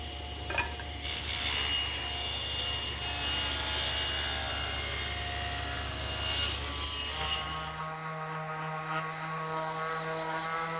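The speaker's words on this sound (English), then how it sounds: "I'm going to use this piece to rip 2 1 1/4 inch rails for the front of the table." A saw rips wood rails for a table front, a loud sustained cutting whine running for several seconds before the blade spins down and the cut ends, leaving a lower hum.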